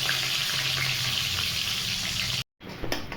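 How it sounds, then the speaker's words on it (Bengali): Chopped onions fry in hot oil with whole dried red chillies, cinnamon, cardamom and cloves, giving a loud, steady sizzle that cuts out briefly near the end before resuming. "পেঁয়াজটাকে লাল লাল করে ভাজবো।"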